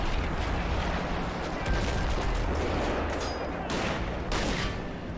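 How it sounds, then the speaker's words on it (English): Dense, continuous battlefield barrage from the Army Men war game, with artillery fire and gunfire blending into a loud, steady roar of overlapping blasts and several sharper bursts throughout. "The artillery is doing really well."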